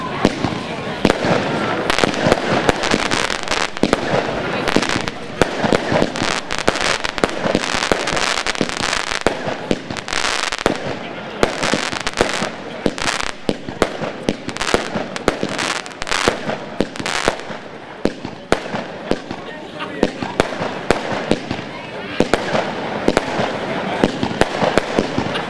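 Triplex Taran 41-shot firework battery cake going off outdoors: a dense, continuous barrage of loud bangs and crackling bursts that goes on without a break, with voices in the background.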